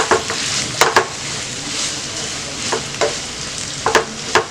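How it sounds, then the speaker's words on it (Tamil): Minced mutton frying on a medium flame and stirred now and then in a pan: continuous close sizzling broken by sharp scrapes and clinks of a spatula, with no talking. "நான் சும்மா தான் வந்து இத அப்படியே வந்து கொஞ்சம் ஃப்ரை பண்ண போறேன்."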